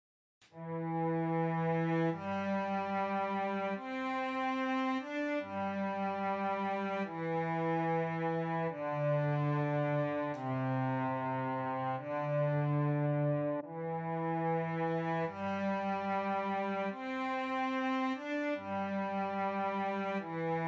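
Virtual string section produced with hand-written modulation, playing sustained bowed chords that change every couple of seconds in a smooth, continuous phrase, with no talking.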